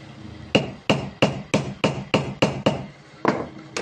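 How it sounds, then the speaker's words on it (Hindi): Light hammer taps seat a pump impeller into its lock on a 0.5 hp Tullu water pump, about ten sharp metallic knocks at a steady, slightly uneven pace, close and clear with no talking. "इसको इसकी सीध में करके और हल्के से हथौड़ी से इसे ठोक देना"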